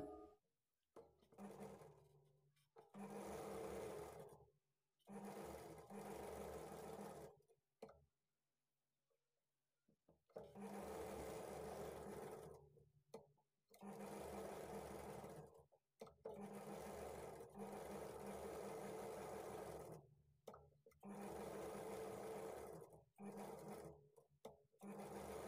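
A sewing machine stitches blouse lining to the main fabric in repeated bursts of rapid mechanical whirring, several seconds each, separated by short pauses.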